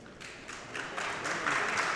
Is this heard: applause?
yes